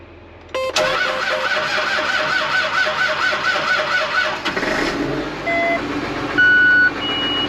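Cold diesel engine with glow plugs cranking and catching after a short pause, then running roughly with a rising and falling note, loud and close, followed by a few electronic beeps and tones.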